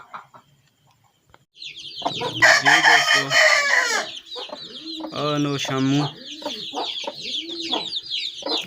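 An Aseel rooster crows loudly alongside Aseel hens clucking close by, with a brief spoken voice mixed in among the bird calls.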